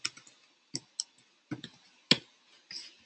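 Keys on a computer keyboard are struck in short, crisp clicks, arriving in small irregular bursts with quiet gaps between them, close and fairly soft.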